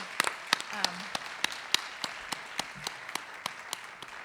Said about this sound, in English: we'll have a round of applause for everybody